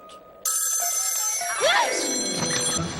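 A bell rings out suddenly inside a haunted house, a bright metallic peal with sustained overtones lasting a few seconds, joined by a swooping whistle-like tone partway through before fading, fairly loud and close.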